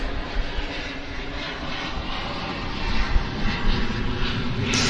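A Convair 580 airliner with Allison turboprop engines at Vancouver Airport gives off a loud, steady engine roar that swells slightly toward the end, heard alone without talk.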